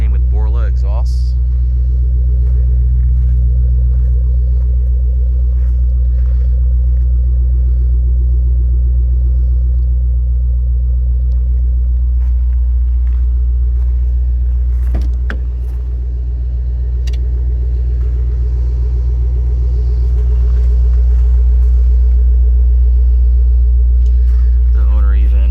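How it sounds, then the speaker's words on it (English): A supercharged 2007 Ford Shelby GT500 Super Snake 40th Anniversary idles through its Borla exhaust, a deep, loud, steady rumble held close throughout with a slight dip midway. "These cars came with Borla exhausts."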